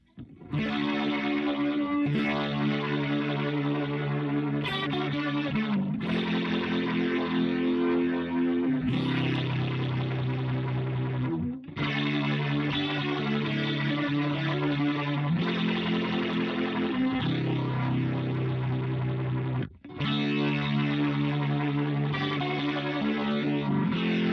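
Boss RT-2 Rotary Ensemble pedal swirling rotary modulation over a heavily distorted electric guitar in stereo, with sustained chords and riffs played loudly and continuously, a couple of brief pauses between phrases.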